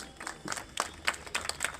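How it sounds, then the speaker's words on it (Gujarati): Scattered hand claps ring out at a village welcome ceremony, sparse and uneven rather than a full ovation, a few separate sharp claps picked up faintly at a distance. "તાળીઓનો હર્ષનાદ આપણે કરીશું"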